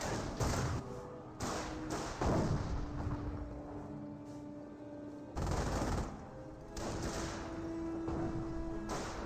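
Gunfire and heavy thumps of combat from the World War II strategy game Company of Heroes, in several loud bursts separated by quieter stretches with a low hum.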